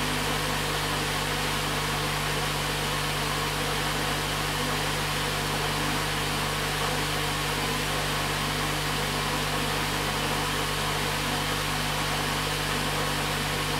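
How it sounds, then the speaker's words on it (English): Fan motor spinning in reverse, driven by an Infineon EVAL DRIVE 3PH PFD7 board, giving a constant whirring hum with a broad airy hiss, steady and unbroken, with no voices. "the fan speed is running faster and faster in the reverse direction"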